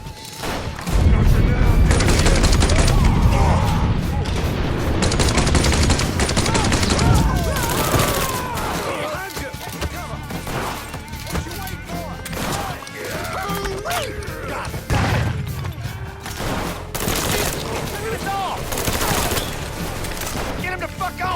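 Gunfire in the Mafia III video game, with loud bursts of automatic fire and repeated shots in clusters, mixed with impacts and game voices talking over the action.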